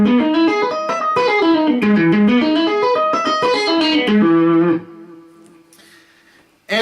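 A guitar plays a three-octave major seventh arpeggio, clean single notes climbing steadily up and then back down in an even rhythm, with the final note ringing out and fading alone.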